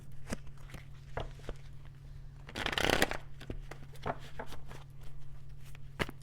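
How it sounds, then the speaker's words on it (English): Tarot cards shuffled by hand at close range: soft riffling flicks, a denser burst of card noise in the middle, and a low steady hum underneath. "so let me pull some cards."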